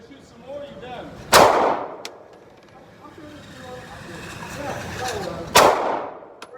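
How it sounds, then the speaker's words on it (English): Two sharp, loud gunshots ring out at an outdoor shooting range, spaced about four seconds apart, each with a quick echoing decay, while people talk quietly in the background between shots. "We're going to shoot some more"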